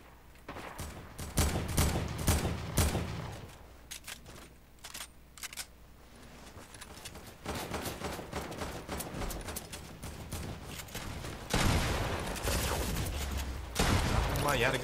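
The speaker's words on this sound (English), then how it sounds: "Who is someone shooting me?" Fortnite gunfire breaks out in several clusters of rapid shots, some louder and closer, separated by quieter gaps, with a voice talking in between.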